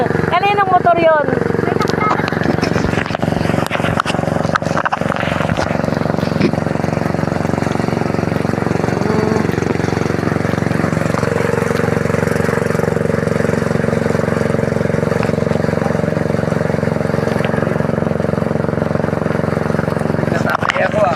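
A motorcycle engine idles steadily nearby, a continuous low rumble running throughout while people chat and talk over it.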